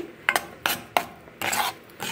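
A spoon works through chutney with salt in a pot, giving several separate scraping, clinking strokes, close and moderately quiet, with short pauses between them.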